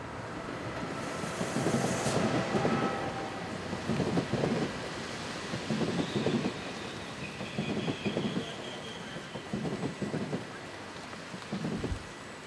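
A train at a rain-soaked railway platform in Asti, Italy, a steady rumbling wash with periodic clacks of wheels and faint squeals, over the hiss of rain.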